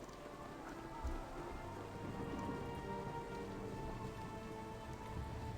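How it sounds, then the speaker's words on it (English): Steady in-game rain from Baldur's Gate falls throughout, a dense hiss of drops on surfaces with a low rumble underneath, even and fairly close, with no voices. "Oh, it's raining"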